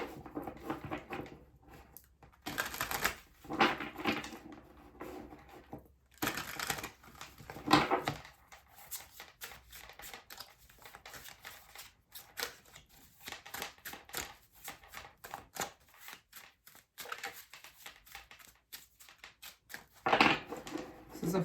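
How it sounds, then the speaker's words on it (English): A tarot card deck being shuffled, with quick papery riffles and soft clattering bursts coming in irregular bunches, close and fairly quiet. "This is a fun deck to shuffle."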